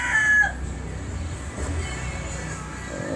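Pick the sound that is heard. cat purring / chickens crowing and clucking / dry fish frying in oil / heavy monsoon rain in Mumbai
chickens crowing and clucking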